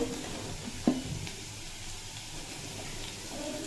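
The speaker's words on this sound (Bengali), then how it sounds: "আবারও এক মিনিট মতো নাড়াচাড়া করে নেব" Ground turmeric, coriander, cumin and chili powder fry in a pan for an egg dish with boiled eggs, onion and potato, giving a steady soft sizzle with one sharp utensil clink and light stirring.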